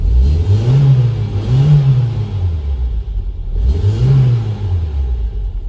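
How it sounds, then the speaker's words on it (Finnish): An FSO Polonez Special engine revs repeatedly as the throttle is applied, rising and falling in three swells over a steady, loud running rumble. "kun antaa kaasua, niin se ottaa kierroksia ihan kivasti"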